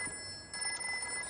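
A telephone rings in a home during a family meal, a steady electronic ring with stacked tones that swells louder midway through, fairly quiet and with no talk over it.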